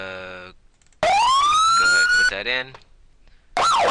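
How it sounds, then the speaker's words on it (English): A replacement police siren for the video game GTA IV, loud and close, with rising wails and yelping sweeps cut into separate bursts, while someone talks briefly over it. "find the siren that you have"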